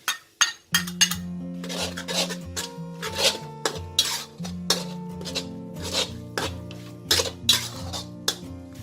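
Pounded curry paste is stirred into hot coconut cream in a pan, with a spoon scraping and clinking against the metal in repeated close strokes and no voices.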